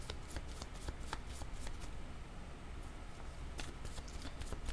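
Tarot cards shuffled by hand during a card reading, a steady close riffling and rustling with crisp flicking snaps throughout, under quiet background hiss.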